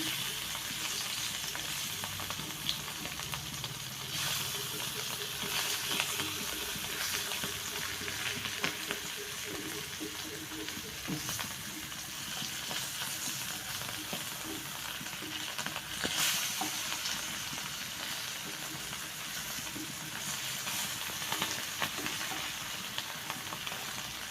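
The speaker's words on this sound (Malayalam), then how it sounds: "ഇതിപ്പം ഒരു സൈഡ് ഇങ്ങനെ വറുത്തിട്ടുണ്ട് ഇതൊന്ന് തിരിച്ചിട്ട് കൊടുക്കണം ഉണക്കമീനാണ്" Dried Manthal fish sizzling and frying in a pan, a steady close crackle running without pause, with faint stirring and turning noises now and then.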